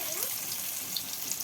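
Pieces of elephant foot yam frying in hot oil in a pan, a steady bright sizzle that hisses continuously at close range without pause.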